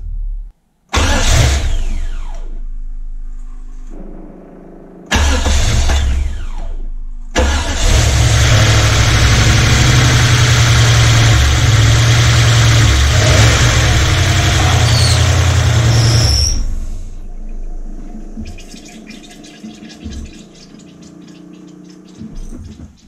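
A restored 1993 Cadillac 4.6-litre Northstar V8 engine cranks a few times, then catches and roars loudly at a steady idle before cutting off, leaving quieter rattling and mechanical noise.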